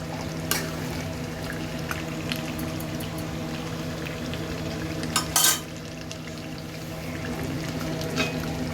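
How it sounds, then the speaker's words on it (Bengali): Potatoes going into a simmering Bengali kosha mutton curry in a pan, a continuous bubbling sizzle with a few stirring clinks and a brief louder splash near the middle, no talking. "এবার আমি এতে আলুগুলান দিয়ে দেবো"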